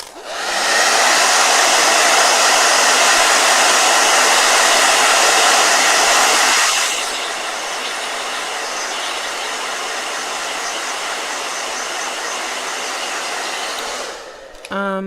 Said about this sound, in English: Oh, blow dryer.